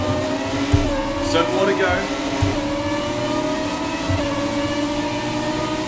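A race car engine in the F1 2017 video game drones steadily and loud throughout, rising in pitch with brief gear-change dips, while someone talks over it.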